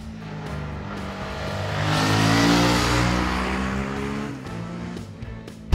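A 2017 Suzuki V-Strom 650XT motorcycle engine revs past 6,000 rpm to a high, strained whine, peaks, then drops back down as the throttle eases off.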